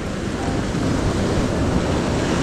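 Ocean surf breaking on a beach in Sendai, Japan, in spring: a steady, loud broadband wash of waves mixed with wind noise on the microphone, continuous throughout with no talking.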